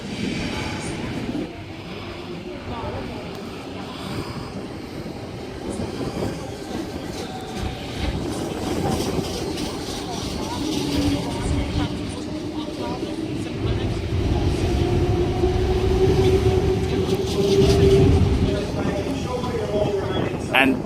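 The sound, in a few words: Sydney suburban train departing Hornsby station platform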